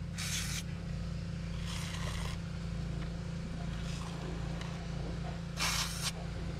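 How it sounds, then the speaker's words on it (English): Three short hissing bursts from an aerosol can of penetrating fluid, close by, over a steady low engine-like hum. "Boy, that really does spray pretty good."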